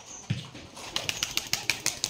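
Rajshahi Giribaz pigeons beat their wings in a quick series of soft flaps, one muffled thump early, then a rapid run of about ten close, faint wing claps with no talk.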